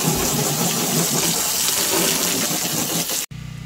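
A garden hose sprays water continuously under a Toyota FJ Cruiser, rinsing salt off the undercarriage in a steady, close hiss that cuts off abruptly near the end.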